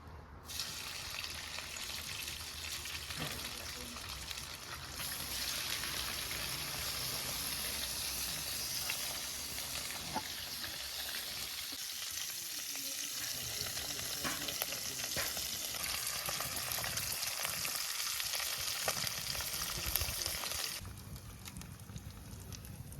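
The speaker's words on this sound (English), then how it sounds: "Now it's time to add my salted codfish to my pot." Salted codfish for ackee and saltfish sizzles steadily in a pot, a continuous close, dense frying crackle with occasional stirring clatter and no talk.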